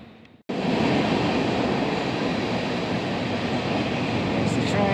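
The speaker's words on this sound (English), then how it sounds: "This little mural of the train that we can hear in the background." After a brief quieter moment, a loud continuous rumble of a train passing nearby in Toccoa, Georgia, with steady rattling and roaring wheels.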